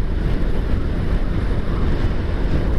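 Strong wind and heavy rain during a storm over Banda Aceh and Aceh Besar make a constant, loud roaring wash of noise with no let-up and no voices.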